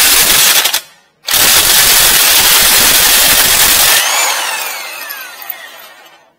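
A loud power tool, fitted with a 22 millimeter socket, removes lug nuts from a 2010 Kia Soul wheel: a harsh, close buzzing burst that cuts out briefly, returns, then winds down.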